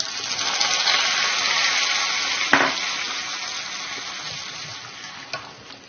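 Tempering spices for tomato rasam crackle and sizzle steadily in hot oil, a close bright hiss with a couple of sharp pops and no talking.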